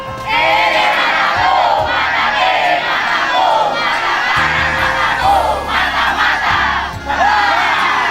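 Junior high school students on a study tour to Yogyakarta chant their school yell together, a loud rhythmic group shout in repeated bursts close by, with cheering mixed in.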